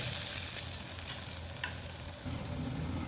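Potato pieces for potato 65 fry sizzle and splatter in hot oil, a steady close crackle with a few sharper pops, heard alone without talk.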